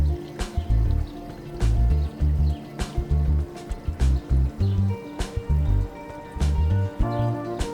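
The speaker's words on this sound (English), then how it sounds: "I then filled it with water, and then I was able to test the new waterfall box" Water splashes and trickles from a newly filled waterfall box on a garden railroad, heard close up as bursts of liquid spilling in uneven pulses with short pauses.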